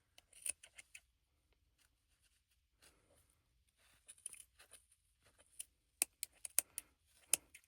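Scissors snip through yarn scraps while trimming crochet strands, giving scattered sharp clicks and short cuts, sparse at first and then quicker in a cluster near the end, close and fairly quiet.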